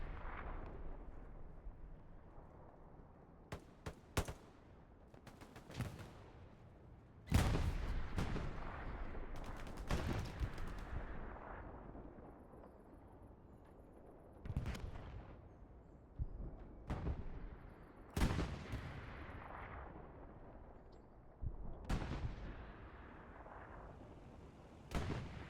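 Sten gun fire and battle noise in Hell Let Loose on Juno Beach: sharp bursts and booming shots come at uneven intervals, some close and loud, others more distant, over a low rumbling backdrop with no voices.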